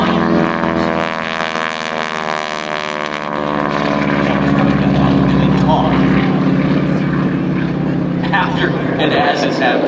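A propeller airplane drones loudly overhead at a military air show demonstration, its engine pitch sliding downward as it passes by, with a steady rumbling tone throughout.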